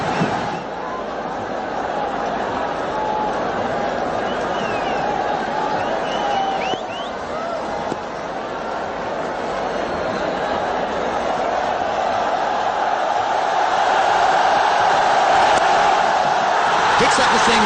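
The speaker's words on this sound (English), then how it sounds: "The crowd are really enjoying this onslaught from both these batsmen" Stadium crowd at a Pakistan versus India cricket final roaring steadily after a big six, a dense, sustained wash of cheering and babble that swells louder toward the end.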